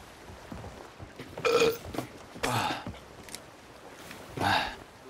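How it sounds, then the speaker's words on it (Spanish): A person burps loudly several times during a Spanish-language gaming session, three distinct belches spaced a second or two apart, close to the microphone, with no talking over them. "Has eructado."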